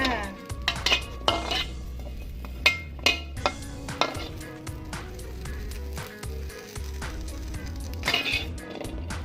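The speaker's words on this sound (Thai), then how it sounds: "เดี๋ยวเราก็มาคั่วขากันนะจ๊ะ ตามด้วยหอมแดงจ้า" Ingredients and shallots being dry-roasted in a pan for a grilled mackerel chili dip, with repeated knocks and scrapes of a utensil on metal and occasional clatter, up close, with no talking.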